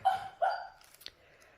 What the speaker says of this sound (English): hopefully my dog will be quiet